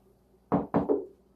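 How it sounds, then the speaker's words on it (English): Three close, hollow knocks on a wooden door in quick succession, the second and third nearly run together, set against near silence. "knocking on the door"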